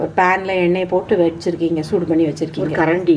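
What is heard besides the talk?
No distinct noise like a dog, phone or traffic.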